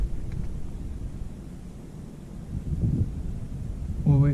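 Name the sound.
wind blowing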